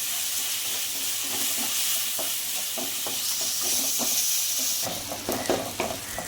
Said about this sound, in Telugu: ఇప్పుడైతే టమాటా వేసేసుకున్నాం, పుదీనా వేసేసుకున్నాం, కొత్తిమీర అన్నీ వేసేసుకొని కొంచెం టమాటా మగ్గేంత వరకు కుక్ చేసుకున్నాం అండి